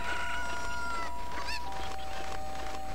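A cucco chicken in The Legend of Zelda: Ocarina of Time clucks and squawks in a brief burst over steady game music, with no one talking.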